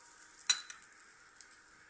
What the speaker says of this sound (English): Stir it in for a minute.